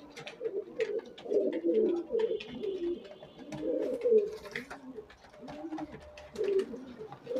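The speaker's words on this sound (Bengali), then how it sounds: "এইসব পায়রাগুলো যদি দরকার থাকে নিতে পারেন" Pigeons coo steadily at close range, with overlapping soft, throaty rolling calls continuing throughout, some fainter chirps behind.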